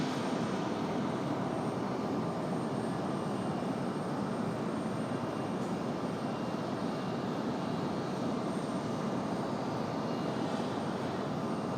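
A Boeing 777 airliner taxis at Raleigh-Durham International Airport, its engines producing a steady, fairly distant broadband roar that holds constant the whole time, with no talk.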